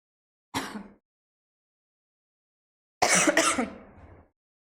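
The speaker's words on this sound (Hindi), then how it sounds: "खांसी आ रही है।" A teacher coughs and clears the throat during an organic chemistry lesson: one short burst, a pause of silence, then a longer, harsher round of coughing close to the microphone.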